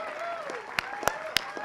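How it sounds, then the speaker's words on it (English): Scattered applause at a Veterans Day ceremony, a few distinct sharp claps rising over a speaking voice and faint crowd murmur, brief and moderately quiet. "I knew I'd get some applause if I said his name."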